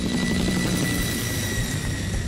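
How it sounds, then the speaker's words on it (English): Helicopter in an animated Godzilla series, a continuous close rotor drone with a steady low thrum and engine whine, loud and unbroken with no talk. "Rig me a chopper."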